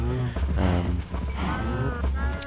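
Cows in Minecraft give several long, loud, close moos in succession, the low bellows nearly filling the moment.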